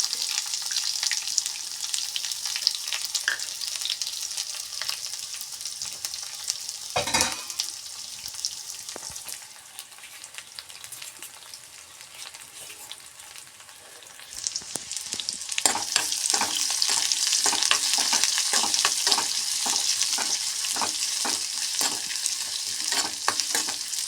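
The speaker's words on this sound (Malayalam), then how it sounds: "വറ്റൽ മുളക് ഇട്ട് കൊടുക്കുക എനിക്ക് ചുവന്നുള്ളി അരിഞ്ഞത് ഇട്ട് കൊടുക്കുക ചെറിയ ഉള്ളി" Chopped shallots and dried red chillies fry in a pan of oil with popped mustard seeds, a steady crackling sizzle that turns louder and busier partway through, with occasional stirring clatter and no talk.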